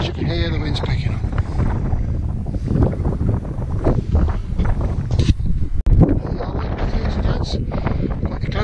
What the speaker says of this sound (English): As you can hear, the wind's picking up.